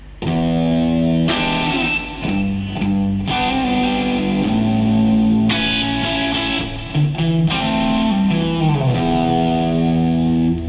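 A distorted electric guitar plays a chugging riff of sustained chords and rhythmic stabs, loud and continuous with no voices.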